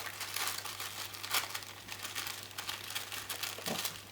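Wet ArtStacks tissue paper is torn apart by hand along a line dampened with a brush, giving soft, continuous crinkling and ripping that carries on for a few seconds, fairly quiet and close, with no voice over it.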